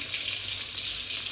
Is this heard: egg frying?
yes